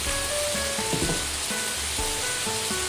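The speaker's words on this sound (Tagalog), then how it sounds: "At the same time, hihintayin nating pumutok-putok." Meat coated in soy sauce fries in a pan with a steady, close sizzle and scattered crackling pops throughout. No one speaks over it.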